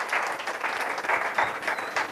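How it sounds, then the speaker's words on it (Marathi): A church congregation applauds loudly, a dense, steady wash of many hands clapping together for a couple of seconds, close and full. "यांच्यासाठी टाळ्या वाजूया जोरात."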